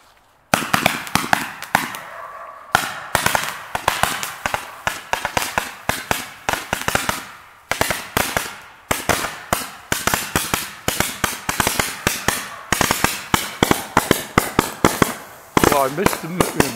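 New Year fireworks and firecrackers in a Texas forest in Nacogdoches County: a long, dense string of sharp cracking bangs, loud and close, rattling in rapid bursts with brief pauses, with voices occasionally heard.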